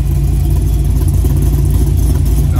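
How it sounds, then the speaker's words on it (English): A 2017 Chevrolet Camaro SS 1LE with over 600 horsepower idles indoors in a shop, giving a loud, close, continuous rumble with a steady lumpy throb and no speech. "That sounds, that idle is so aggressive."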